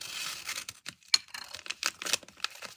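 A taped mail package is torn open by hand, giving a quick run of short, crackly ripping and crinkling bursts with brief pauses between them, close and fairly quiet.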